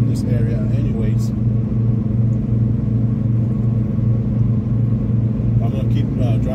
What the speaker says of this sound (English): I'm gonna go ahead and keep on driving.